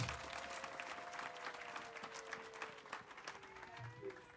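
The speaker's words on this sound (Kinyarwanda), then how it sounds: "Ndabinginze ni mumpera Imana amashyi kubw'iki nacyo." Applause from a church congregation rolls on steadily for about four seconds, a dense, even patter of many hands at moderate loudness. Faint sustained tones run underneath, and no voices stand out.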